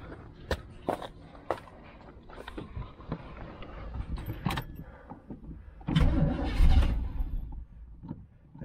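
A 1985 IROC-Z running on bad gas starts up with clicks and knocks, a few sharp pops and a rough burst of engine noise near the end. The sound stays close and fairly quiet and uneven, with handling noises in between.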